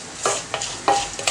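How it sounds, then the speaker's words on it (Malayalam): Coconut pieces frying in a pan for parippu payasam, a Kerala lentil pudding, with soft sizzling and a few scraping stirs of a spatula at an uneven rhythm, close up and alone. "ഇപ്പോൾ തേങ്ങാക്കൊത്ത് നന്നായിട്ട് മൂത്തിട്ടുണ്ട്."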